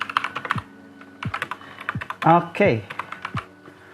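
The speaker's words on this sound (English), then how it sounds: "the Keychron K8 is already connected, and we're gonna try to type on notes" Keys clack on a Keychron K8 mechanical keyboard in short, uneven bursts of close, crisp strokes, with a person speaking briefly in the middle.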